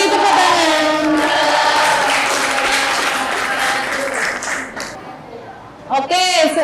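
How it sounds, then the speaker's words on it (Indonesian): Classroom applause breaks out after a student group's presentation, a steady dense clapping that holds loud for several seconds and then thins out as voices come in near the end. "Beri tepuk tangan."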